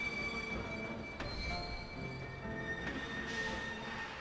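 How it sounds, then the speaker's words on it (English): A stylized Disney-looking train pulls away in Kingdom Hearts 2, a steady rail rumble with high wheel squeal and faint clicking rhythm, continuous and fairly close with no talk. "Close goes the door, and off goes the very Disney-looking train."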